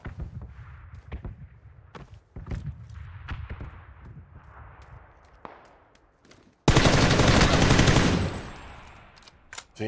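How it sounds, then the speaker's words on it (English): Video game gunfire: scattered single shots and short bursts, then a sudden loud sustained barrage of automatic fire that fades out near the end. "He's getting shot at."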